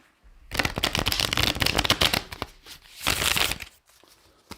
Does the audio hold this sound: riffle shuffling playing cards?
yes